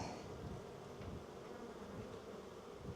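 Honeybees drone in a dense, continuous buzz during a mid-winter hive inspection, a faint swarm-like hum with no talking.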